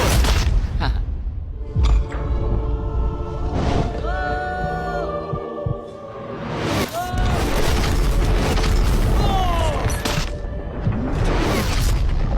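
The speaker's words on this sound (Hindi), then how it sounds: "3, 2, 1 लैम्बोर्गिनी को गिरा दो।" A Lamborghini crashes down onto a pile of pillows and cardboard boxes with a loud boom and a grinding, crunching impact, then further thuds, while excited voices shout over the noise.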